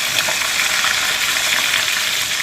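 Fish fries in a pan of bubbling oil for a fish curry, a dense, even crackling sizzle that holds steady and loud up close, with no voices.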